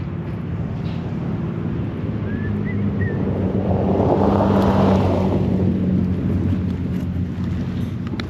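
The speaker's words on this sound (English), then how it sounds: "I can hear a car coming" A car approaches on a hilly road in Loess Hills State Forest, its rumble swelling to a peak midway and fading again, set against steady low wind noise outdoors.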